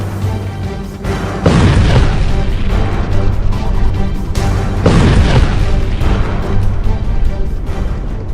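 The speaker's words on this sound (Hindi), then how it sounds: "शांत पड़े इलाके में अचानक से एक बड़ा धमाका होता है" Two heavy, booming blasts from a Hezbollah missile strike erupt a few seconds apart, each followed by a long rumbling tail and a constant roar in between.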